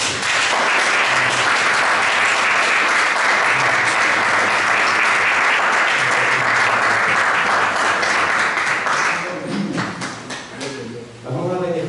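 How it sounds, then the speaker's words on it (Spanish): Loud, sustained applause from a church congregation fills most of the stretch, dense and unbroken, then thins into scattered claps as a voice begins speaking near the end. "Dale un fuerte aplauso a Cristo Jesús."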